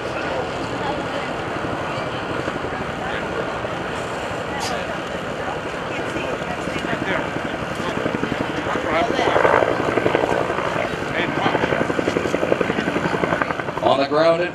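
Military helicopter hovering over a landing zone at a Joint Base McGuire-Dix-Lakehurst airshow, a loud continuous rotor thump and engine roar that swells midway, with a public-address voice talking over it.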